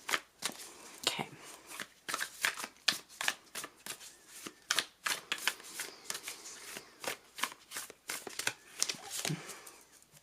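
Tarot cards are shuffled and laid down in a run of crisp riffling and slapping bursts, irregular and close, with brief gaps between handfuls and no talking.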